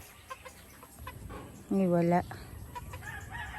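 A native hen on a farm gives a short, loud call from close by, with quieter clucks scattered before and after and people talking casually over the scene.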